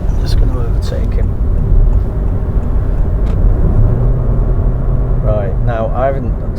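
Steady, loud road and engine drone from inside a car overtaking another on the M25 motorway at about 60 mph, with a voice near the end.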